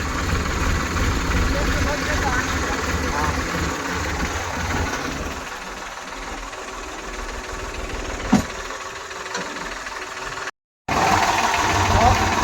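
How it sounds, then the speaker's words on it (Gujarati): A tractor engine chugs steadily and fairly loudly, a continuous low rumble with a brief sharp knock partway through. "ટોચન કરીને ધક્કો મારીને આપણે ટ્રેક્ટર કર્યું ચાલુ"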